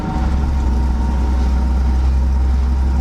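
A 1962 International AB110 truck engine, freshly tuned with a new carburettor adjustment and fresh spark plugs, idles steadily with a deep low rumble, loud and close, holding an even drone throughout with no talk.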